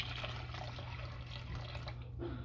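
About a cup and a half of water poured into a beef teriyaki casserole, a soft steady liquid pour with faint drips, quiet and close over a low background hum, no talk.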